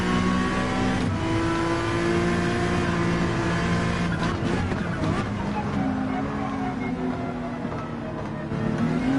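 A Porsche 911 race car engine in Gran Turismo 7 revving and accelerating through a bend, the engine note rising and falling steadily with shifting pitch, loud and close throughout.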